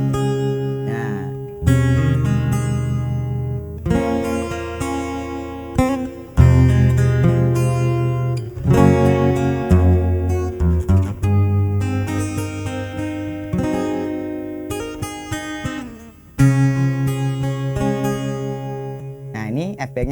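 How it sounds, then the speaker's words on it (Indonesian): Electric guitar played through the FBX effect on a Recording Tech Pro-TRX6 mixer, giving a sweet flanger-like sweep; loud sustained chords and notes ring continuously with a few strum attacks, alone with no talking. "Jadi suaranya dia kayak ada flangernya. Jadi lebih manis."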